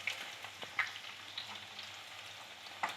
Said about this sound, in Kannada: ತೊಗೊಂಡಿರೋ ಫಿಶ್ನ ಒಂದೊಂದಾಗಿ ಹಾಕ್ಕೊಳ್ಳಿ